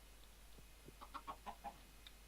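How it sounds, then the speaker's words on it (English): Chickens in the Minecraft video game cluck in a short run of soft, quick calls, fairly faint over a quiet background, with no talking. "we should see the chickens start to mate"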